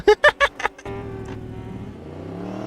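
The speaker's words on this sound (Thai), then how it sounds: "คือเสียงรถหรือว่าเสียงมอเตอร์ไซค์นั่นเอง เหมือนจริงมากเลยนะครับ" A brief burst of voice gives way to a Yamaha YZF-R1 motorcycle engine revving in the racing video game RiMS Racing, its pitch climbing steadily as it accelerates, fairly loud and close.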